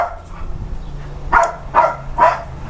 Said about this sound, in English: this is the dog, not my dog.